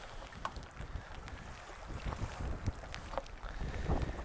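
Steady wind noise buffets the microphone outdoors in gloomy weather aboard a beluga-watching boat, with water lapping and the boat's low rumble beneath; no one speaks.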